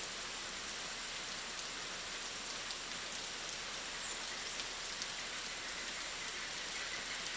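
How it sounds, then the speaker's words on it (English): Rain falls steadily on the Amazon rainforest, a soft, even hiss of drops on foliage that stays constant and fairly faint from start to finish, with no voices. "Rain washes away scent"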